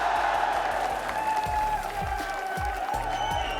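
Esports arena crowd at an Overwatch 2 grand final, a steady loud roar of screaming and cheering with applause underneath, sustained throughout.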